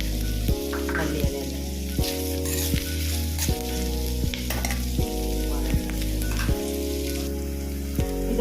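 Chicken curry masala sizzles and fries in a pan after roasted gram and pepper go in, with steady loud crackling and a stirring scrape roughly every second throughout.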